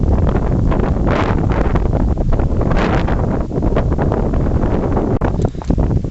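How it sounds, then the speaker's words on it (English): Strong wind roars across the exposed Crib Goch mountain ridge in Snowdonia, battering the microphone with continuous loud rumbling gusts and no talking. "I haven't filmed much because it's just too windy"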